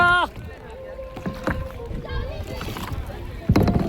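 A kayak paddles on the sea at Khavne beach in Malvan, with close splashes and sloshing strokes mixed with people's voices talking.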